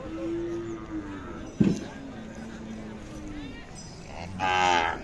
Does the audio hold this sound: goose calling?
no